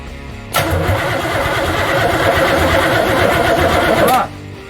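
A Chevrolet Camaro street car with a weak battery cranks in a loud steady whirring, mechanical churn for about three and a half seconds, then it cuts off abruptly.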